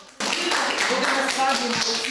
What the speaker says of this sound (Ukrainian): Щоразу закінчуючи заняття, учасники дякують один одному оплесками